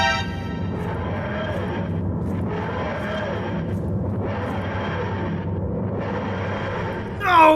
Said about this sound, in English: This is the helicopter again!